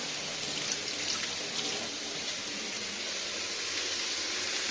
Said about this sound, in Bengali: এটা ভালো করে আরেকবার ধুয়ে নেব